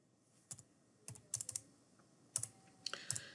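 Keys clatter on a computer keyboard as a number is typed into a Blender animation setting, a few quick, crisp clicks in small bursts separated by short pauses, close and fairly quiet.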